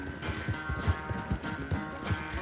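Horse galloping in the video game Red Dead Redemption 2, quick rhythmic hoofbeats thudding close and steady over a faint background ambience.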